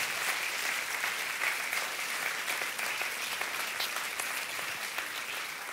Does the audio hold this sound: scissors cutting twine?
no